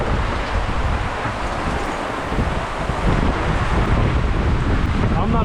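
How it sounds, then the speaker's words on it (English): Heavy squall wind roars steadily against the microphone aboard a skipjack sailboat, with rushing water and hiss of rain filling the background for several seconds. "it sure feels like a squall"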